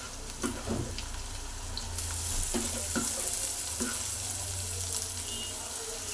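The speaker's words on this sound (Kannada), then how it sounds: "ಟೊಮಾಟೊನ ಫ್ರೈ ಮಾಡ್ಕೊತೀನಿ" Chopped tomato frying with green chillies in a pan makes a steady close sizzle, with a few clanks from stirring. Heat noise builds partway through, and no voices are heard.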